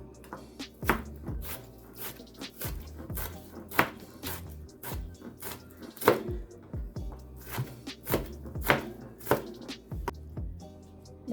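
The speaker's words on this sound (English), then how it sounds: "chopping up our red onion" A knife chops a red onion on a cutting board in a home kitchen, sharp, close taps coming in quick, uneven bursts with short pauses between.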